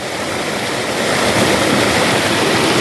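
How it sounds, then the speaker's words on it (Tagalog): Strong natural spring water gushing and rushing loudly and steadily, a dense close-up wash of water that builds slightly and carries on without any voices. "Bukal na tubig. Grabe lakas ng tubig."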